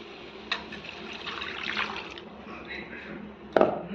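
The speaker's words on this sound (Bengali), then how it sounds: "এবার আমি জল ঢেলে দেবো।" Water poured into a pan of potato curry with spices, a splashing, trickling pour that swells in the middle and ends in a sharp splash, heard close up.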